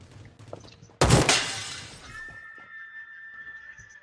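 Armor shatters in the Rules of Survival battle-royale game with a sudden loud glassy crash. A bright ringing tone rises and holds after the break.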